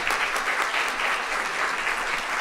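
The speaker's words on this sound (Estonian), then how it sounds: "Teeme ühe suure aplausi." An audience at an environmental education conference in 2021 claps for an award recipient. The applause is sustained, even and moderately loud, filling the room without a break.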